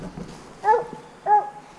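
Out in the woods an anxious dog gives two short, high whimpers separated by a pause, close by over quiet background.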